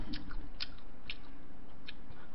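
Crispy boneless Lotteria fried chicken is chewed close to the mic, with a few sharp crunchy bites standing out over steady soft mastication.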